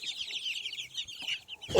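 Growing chicks in a brood cheep in rapid, high-pitched overlapping chirps that carry on steadily nearby, ending with a louder, lower burst.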